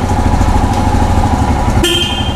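A 2020 Royal Enfield Himalayan motorcycle idles with a loud, steady engine thump, then its horn gives a short, bright beep near the end.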